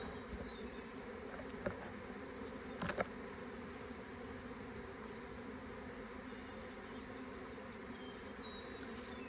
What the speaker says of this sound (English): All these bees flying around in the sky.